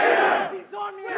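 A crowd of fans cheers and roars for UFC fighter Khabib Nurmagomedov, a loud burst of massed voices that dips briefly, then swells again with rising shouts.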